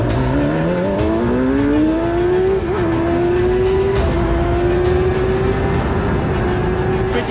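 F1000 race cars starting a race at Silverstone, engines rising steadily in pitch as the pack accelerates away, loud and continuous, with several overlapping engine notes and occasional sharp transients.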